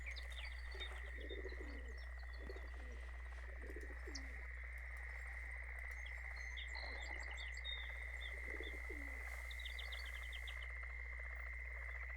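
Frogs croak in the Fishing Planet game while crappie fishing in North Carolina, with low calls repeating every second or two over a constant hum and scattered bird chirps.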